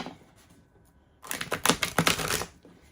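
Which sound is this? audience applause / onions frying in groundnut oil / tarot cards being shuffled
tarot cards being shuffled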